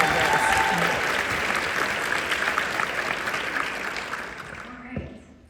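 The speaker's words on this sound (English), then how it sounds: "Let's give one last round of applause for Beauty Inclusion Council." An audience claps for the Beauty Inclusion Council in a steady, dense round of applause that holds for several seconds, then tapers and fades out near the end.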